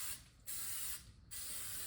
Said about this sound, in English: spray your sides of your pan really well